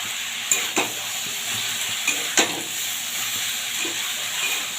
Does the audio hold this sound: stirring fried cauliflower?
yes